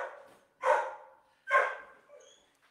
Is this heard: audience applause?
no